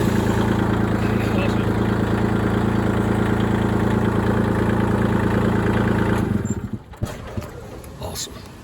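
A Kubota L2501 tractor engine idles steadily after repair with a loud, even low rumble, then cuts off around six seconds, leaving faint rustling and handling noises.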